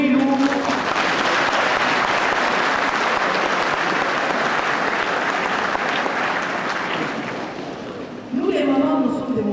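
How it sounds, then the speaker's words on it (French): Women applauding at a centenary gathering in Belgium, a strong, dense, sustained burst of clapping that fades slightly before a voice cuts back in near the end. "Mes sœurs, applaudissez-vous d'abord au nom de maman Mouilou."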